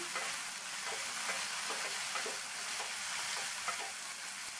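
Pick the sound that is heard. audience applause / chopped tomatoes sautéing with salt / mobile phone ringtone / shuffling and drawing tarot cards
chopped tomatoes sautéing with salt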